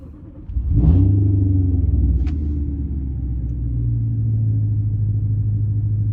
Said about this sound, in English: in typical 2008 BMW fashion, it decided to start